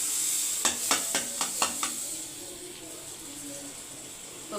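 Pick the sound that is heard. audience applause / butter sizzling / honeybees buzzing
butter sizzling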